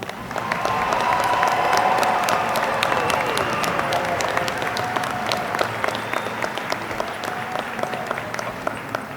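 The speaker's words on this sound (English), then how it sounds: "One more round of applause." Sustained applause from a large commencement crowd at Averett University's winter graduation, with cheering and voices mixed into the steady clapping, loud and close throughout.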